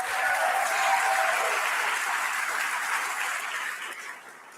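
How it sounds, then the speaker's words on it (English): Town hall crowd in Montgomery applauds in a dense, steady wash of clapping that holds level and then gradually tapers off. "Give another round of applause for Ron Sparks"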